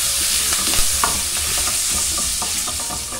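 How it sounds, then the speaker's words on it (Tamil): Mustard seeds and curry leaves crackle and sizzle loudly in hot oil in a pan, a steady frying hiss broken by sharp popping bursts and stirring scrapes, with no voices. "இப்போ கடுகு நல்லா பொரிஞ்சிடுச்சு, இதில் நம்ம கருவேப்பிலை சேர்த்துக்கலாம்"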